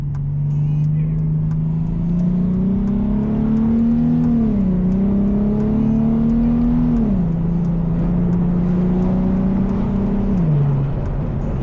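Car engine revving hard with quick blips and rev-matched downshifts, a steady loud drone that rises and dips as gears change, near and continuous throughout, from a car being flipped for resale.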